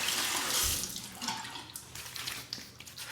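A bathroom tap gushes briefly as water runs into a sink for a rinse after shaving, a close, hissing splash that tapers into softer trickles and drips.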